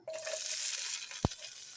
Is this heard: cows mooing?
no